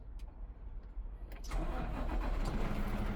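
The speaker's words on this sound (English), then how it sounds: "Start my engine." A truck engine on a vehicle fitted with air brakes cranks briefly and catches, then settles into a steady, loud diesel idle, with no talking.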